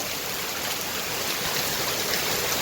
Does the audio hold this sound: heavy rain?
yes